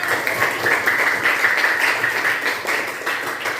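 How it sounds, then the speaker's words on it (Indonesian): Classmates clap together in a short burst of applause that fills the room, loud and fairly even for a few seconds. "tepuk tangan untuk sahabat kita"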